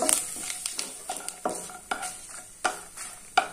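Panch phoron spices fry in hot oil for a Bengali kul (jujube) pickle, with a faint sizzle under repeated close scrapes and clinks of a spoon stirring in the pan, spaced irregularly through the clip.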